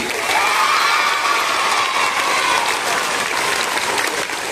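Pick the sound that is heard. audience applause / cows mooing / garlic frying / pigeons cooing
audience applause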